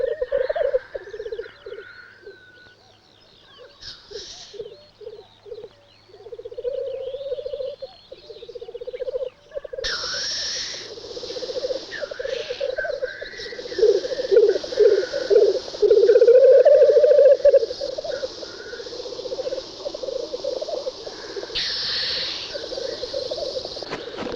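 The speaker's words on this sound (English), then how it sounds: "the cold, lockside dawns echo to the strange sounds of squabbling blackcock" Strange bubbling, cooing calls and harsh hissing bursts from several black grouse squabbling at a dawn lek by a loch, rising and overlapping in a noisy, quarrelsome chorus outdoors.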